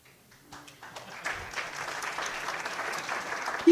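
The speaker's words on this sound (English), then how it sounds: "You can clap for them, that's okay." Applause for board members at an education conference, starting quietly and building into a steady wash of clapping from a moderate-sized audience, fairly soft and somewhat distant.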